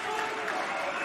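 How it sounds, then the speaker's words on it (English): A pro wrestling crowd cheers for Moxley, a brief, dense roar of applause and shouting filling the arena at a steady level. "This crowd's so excited to see Mox"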